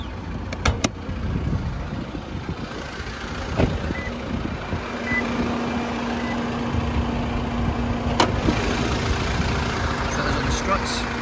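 A 2.8 turbo diesel engine in a 2019 Toyota Prado GXL idles steadily at close range, a low continuous rumble with a few clicks and knocks, as a person talks over it.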